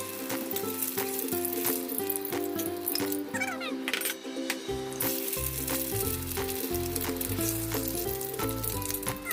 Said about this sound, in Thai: เรามาทอดไข่ดาวก่อนเลยนะคะ